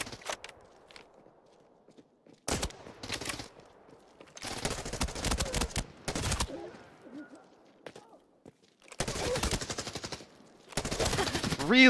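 Video game automatic weapon held on the trigger, firing in several sustained loud bursts separated by quieter gaps filled with movement and footstep sounds.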